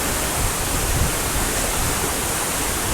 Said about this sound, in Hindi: पानी कितनी तेज़ी से गिर रहा है, देखो आप कितनी स्पीड से पानी आ रहा है और काफ़ी ऊंचा वाटरफॉल है ये और पानी भी बहुत ज़्यादा है।